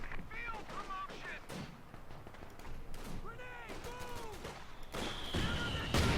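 Mortar and gunfire in a Company of Heroes 2 match, scattered dull booms and sharp shots at mid distance mixed with the game's whistling and whooshing effects, a commentator talking over the action.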